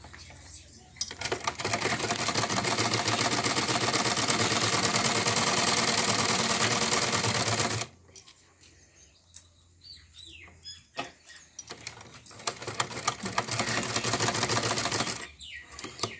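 Sewing machine stitching a men's kurta runs steadily and loudly for several seconds, stops, then resumes in a second burst, with faint handling sounds in the pause.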